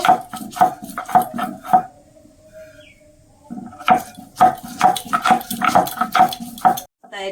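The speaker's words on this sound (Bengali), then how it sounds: "আমি আদাটা শিলে ভালো করে বেটে নেব" Ginger is crushed on a stone grinding slab (shil), making close, rhythmic knocking and scraping strokes in two busy bursts separated by a short quiet pause.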